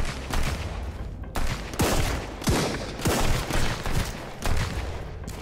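Repeated gunfire in the Sunkenland survival video game: a rapid series of loud, close shots in irregular bursts, about eight to ten reports over several seconds, with no talk.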